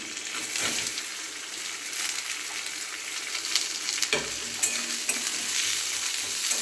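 Chopped onion and green chillies sizzle and fry in a pan, a continuous close crackle with stirring scrapes throughout and no talking.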